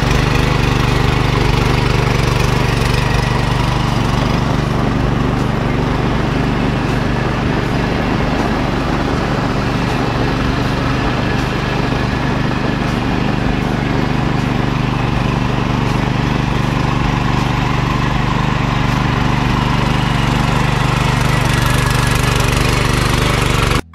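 A steady, loud engine drones on without pause, a low rumbling tractor motor running throughout in a muddy rice paddy during heavy rain, with no voices.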